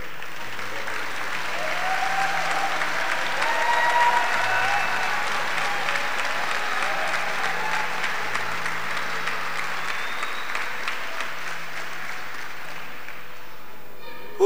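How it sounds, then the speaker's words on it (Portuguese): Church audience applauding in a long, even wash of clapping that swells slightly early on and holds steady, sustained and moderately distant with a low hum beneath. "Pode aplaudir o Senhor."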